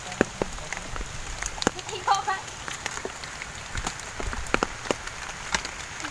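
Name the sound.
heavy rain with big drops falling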